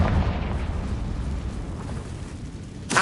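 Confringo spell explosion in Hogwarts Legacy on PS4: a loud, sustained booming blast with a rumbling low end that holds for the whole stretch, then a sharp burst right at the end.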